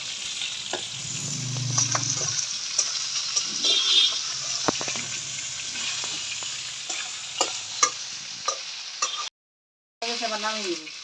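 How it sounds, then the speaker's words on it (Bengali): Fish frying in a pan while being stirred, a close continuous sizzle punctuated by repeated scraping knocks of the utensil, with a brief silent gap and a voice near the end. "মাছগুলো ভাজা হয়ে গেছে, আর একটু ভাজা নিই ভালো করে।"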